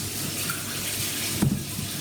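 A kitchen tap runs for hand washing during cookie baking, a soft steady water hiss with a brief louder splash about midway, fairly quiet, and no one speaking.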